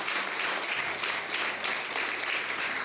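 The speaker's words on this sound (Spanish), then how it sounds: "Dale un aplauso al Señor en esta mañana" A church congregation claps steadily during a Sunday school service, dense continuous applause from many hands filling the room without letup.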